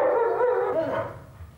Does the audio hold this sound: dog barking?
yes